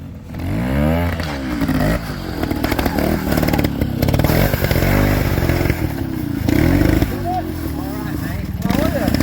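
A trials motorcycle picks its way over rocks on a clubman route at a national trial event at Hawk's Nest, its engine revving and blipping loudly and up close, with clattering and scraping, while people talk over it.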